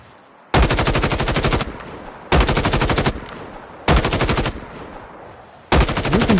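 Loud automatic weapon fire in the mobile shooter Call of Duty Mobile, four separate sustained bursts of rapid shots with short quiet gaps between them.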